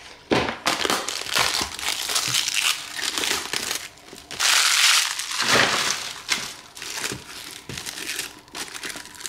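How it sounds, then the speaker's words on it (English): Pink tissue paper crinkling and rustling while sneakers are unboxed, close and continuous, with repeated crisp crunches and a louder burst of crumpling midway. "Just comes with some pink tissue paper."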